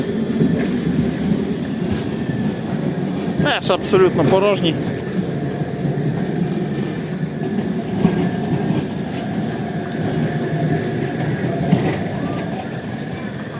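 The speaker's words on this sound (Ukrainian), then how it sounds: "І ще один львівський трамвайчик." A tram rumbles past on a Lviv street with a low mechanical drone and brief wheel squeals, while a person speaks briefly over the street noise.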